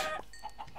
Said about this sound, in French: Ah, cool, des poules!